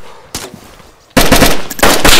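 Loud close-range automatic gunfire from a video game, a single sharp shot followed after a short pause by a sustained rapid burst filling the rest of the moment.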